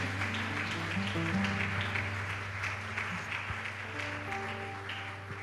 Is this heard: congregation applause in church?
yes